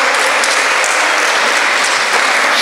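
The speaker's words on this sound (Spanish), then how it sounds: "Que se escuche el aplauso, por favor." Dense applause rises from the audience at a breast cancer discussion event during an award presentation, loud and continuous broadband clapping that holds steady for the whole stretch.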